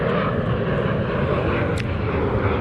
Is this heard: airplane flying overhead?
yes